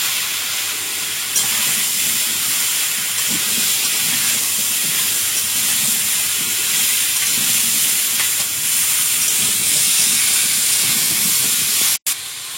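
Whole cumin, bay leaf and onion-garlic-ginger paste frying in hot oil give a loud, steady, hissing sizzle throughout, broken by one brief dropout near the end, with no voices.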